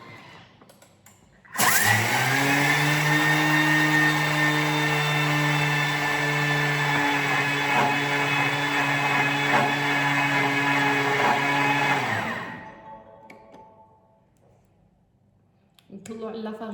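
A Thermomix running at speed 10 to grind ingredients into flour gives a loud, steady high-pitched motor whine for about ten seconds, then spins down and fades to near quiet.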